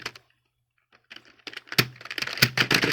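Typing on a computer keyboard in Notepad, a quiet pause followed by a quickening run of close, crisp key clicks, with no talking.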